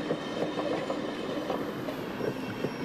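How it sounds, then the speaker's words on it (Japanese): Train ride in the Yo-kai Watch video game: steady rumbling carriage noise with rhythmic wheel clatter, continuous and fairly close, no voices. "おお、電車に乗ってる。"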